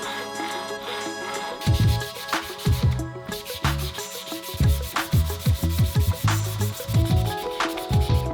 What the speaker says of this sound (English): A good sanding session.